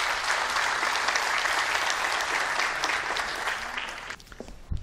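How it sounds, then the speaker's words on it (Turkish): Audience applause fills a festival gala hall at a documentary film awards ceremony, a dense steady clapping that holds loud for about four seconds before thinning out and fading. "Servet Somuncuoğlu'nun saygıdeğer eşi Nevin Hanım'ı alkışlarla sahneye davet ediyoruz."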